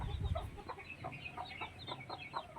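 Mother hen clucking softly among newly hatched chicks on a farm, a string of short, regular clucks fairly faint over low background noise, no voices.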